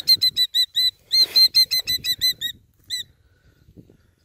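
A small bird defending its nest at Quabbin Reservoir gives a rapid series of sharp, high chirping alarm calls, loud and close, then falls quiet apart from faint background rustling.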